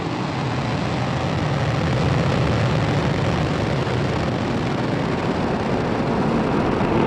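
A SpaceX Falcon 9 Block 5 rocket lifts off with a steady, broad roar, a loud unbroken rumble that holds evenly throughout with no talking.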